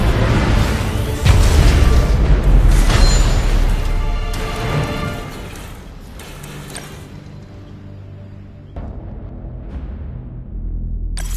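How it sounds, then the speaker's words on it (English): In a video game, a loud booming blast opens with a heavy low rumble and crash that slowly fades, followed by a few mechanical clanks and a second thud near the end. "Missile launched."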